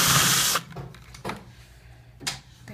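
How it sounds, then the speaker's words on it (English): An old door knob plate has its screws backed out with a screwdriver: a loud scraping grind at first, then a few short, sharp creaks and scrapes spaced about a second apart, close up. "Just gonna get my screwdriver in here."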